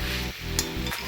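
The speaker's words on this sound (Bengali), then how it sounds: "এবার একটুখানি নেড়ে ভাজা করে নেব।" Ridge gourd and potato stir-fried in a pan, a continuous sizzle with a couple of quick scraping stirs, close and unbroken for a brief moment.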